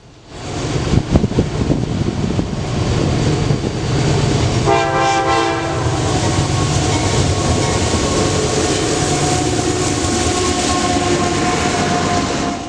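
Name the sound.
freight train passing with horn salute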